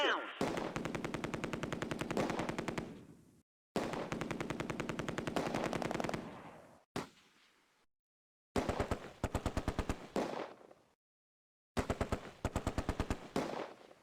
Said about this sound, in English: The Germans are still firing and the British are pinned down.